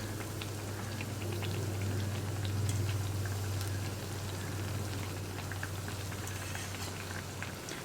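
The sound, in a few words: wheat flour and banana snack frying in oil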